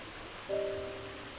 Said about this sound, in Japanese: 滝が目の前。